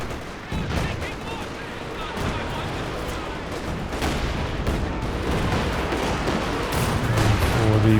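Rapid machine gun bursts layered with heavy mortar blasts in a Company of Heroes 2 two-versus-two match, loud and sustained throughout, with dense overlapping gunfire and faint talk underneath.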